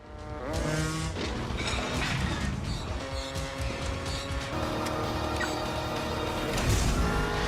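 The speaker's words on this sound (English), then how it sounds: "the action staple that has become the LA River car chase" Car chase along the Los Angeles River from the 1985 film To Live and Die in L.A., a dense, loud mix of roaring engines, squealing tires and impacts under a tense film score, with no speech.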